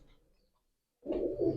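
After a near-silent second, a Rampuri pigeon in a breeding loft lets out a short burst of low, throaty cooing, close by and moderately loud.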